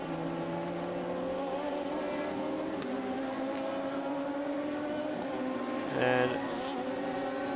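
Race cars in a Radical Cup North America race at Sonoma roar past with steady harmonic engine drone, one car briefly louder near the end, under a single spoken word.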